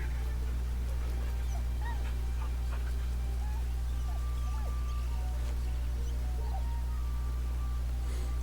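Faint, scattered short whines and whimpers from a dog in the video game Baldur's Gate 3 come and go over a constant low background drone.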